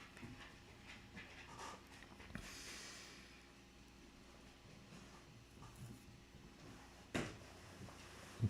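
A puppy pants softly in the background of a quiet indoor room, a steady low breathing with a few faint knocks and a short louder bump near the end.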